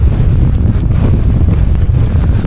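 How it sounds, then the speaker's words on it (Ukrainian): Wind blows across an open field on a bicycle trip, a loud, constant low rumble and buffeting against the microphone that drowns out everything else. "А поки ще так, вітерець нам дує."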